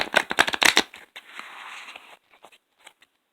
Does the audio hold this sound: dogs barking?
no